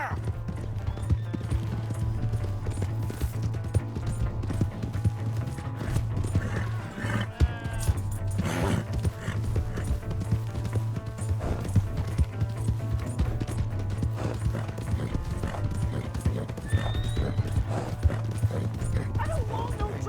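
Horse hooves clop steadily at a gallop in Red Dead Redemption 2 gameplay over a continuous low hum, with voices speaking intermittently throughout.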